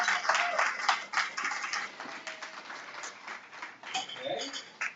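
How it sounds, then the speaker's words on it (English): An indoor audience gives a mild, scattered golf clap after a cooking-contest vote, with light, uneven hand claps for several seconds at a modest, steady level. "Sounded like a mild golf clap to me."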